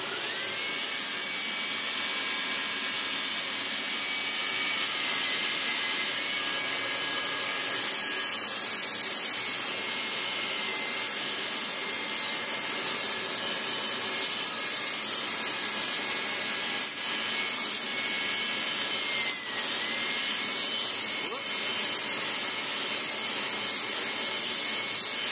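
A Kirby Heritage Turbo vacuum cleaner runs with its hair clipper attachment fitted, giving a loud, steady high-pitched motor whine with a constant airflow hiss that holds for the whole stretch, with no one talking.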